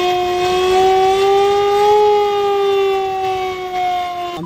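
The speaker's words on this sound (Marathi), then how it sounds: "आमच्याकडे एक सायरन म्हणजे एक विद्युत सायरन आहे" An electric civil defense siren sounds during a mock air-raid drill, wailing loud and steady with a slowly rising and falling pitch that holds for several seconds before cutting off.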